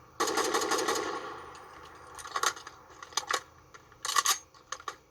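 Semi-automatic gunfire in a video game: a burst of rapid shots, then a few separate trigger pulls spaced out, each sharp and fairly close, with mechanical clicks between them and no talking.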